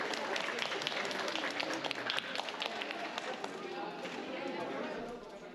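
Spectators at a finswimming sprint competition's award ceremony clap for the winners, scattered sharp hand claps over a busy indoor crowd murmur, with voices mixed in and the applause tapering slightly toward the end.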